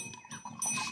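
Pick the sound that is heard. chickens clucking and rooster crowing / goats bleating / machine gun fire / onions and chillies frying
goats bleating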